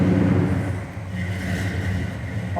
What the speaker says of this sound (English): Here's our idle, guys. So it's idling great.